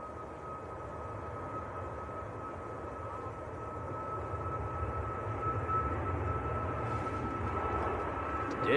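A TUI airliner rolls for takeoff at Manchester Airport, a steady broadband jet roar with a sustained whine that builds gradually louder over the seconds, heard from a distance with no voices.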